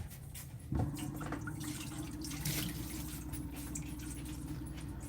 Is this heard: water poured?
yes